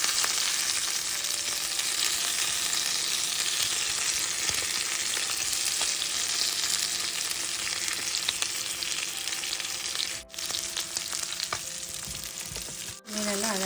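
Fish for tandoori dry fish fries in hot oil, a dense, steady crackling sizzle that runs on evenly close by, with a couple of brief dips and light clatters toward the end.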